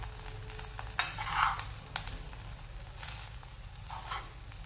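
Paneer biryani rice is gently stirred in a pan over a low flame, giving a soft continuous sizzle with light scraping and occasional spoon taps, close and fairly quiet.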